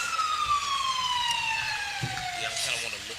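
A Peach County fire truck siren wails at a homecoming parade, a loud descending tone sliding steadily downward, with crowd voices and street noise underneath.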